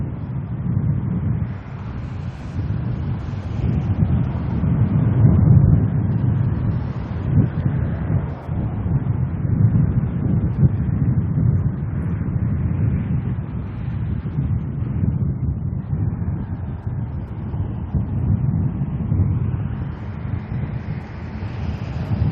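Strong wind buffets an airport plane-spotting spot, a steady heavy low roar with gusty rumble hitting the microphone continuously, no clear breaks throughout.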